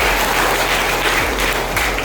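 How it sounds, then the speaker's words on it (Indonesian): A crowd claps for Bapak Ridwan, dense and loud applause filling the whole short stretch without a break, close and steady, with no talking over it. "Tepuk tangan untuk Bapak Ridwan."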